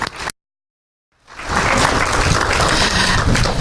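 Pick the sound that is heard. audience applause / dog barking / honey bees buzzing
audience applause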